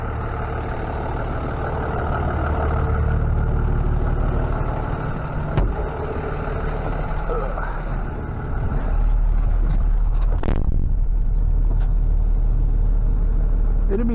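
A brand new 2022 Chrysler Pacifica minivan being driven and parked, its engine and road noise a loud continuous rumble up close, with a brief thump midway and the drone swelling slightly toward the end.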